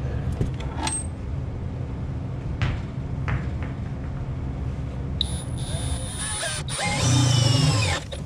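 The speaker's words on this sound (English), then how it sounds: "Drill a hole there." A power drill whirs up in the final few seconds, drilling bolt holes in an ammo box for motorcycle saddlebags, its motor whine rising and falling after a stretch of quiet background noise.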